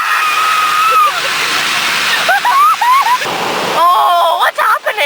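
Rushing shower spray in a car wash inside the Webkinz video game, a loud steady wash of water with game tones and chirps running through it.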